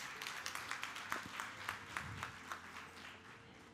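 An audience at a Gujarati newspaper's 25th-anniversary celebration with the Chief Minister applauds two honoured guests, a moderately distant spread of clapping that pulses steadily and slowly fades.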